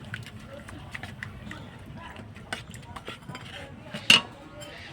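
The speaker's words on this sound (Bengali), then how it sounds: "সুজিটা প্রথমে আমি দিয়ে দিচ্ছি।" A spoon stirs semolina into hot water in a metal pot, producing light scraping and clinking with one sharper clink near the end, heard close under a quiet background.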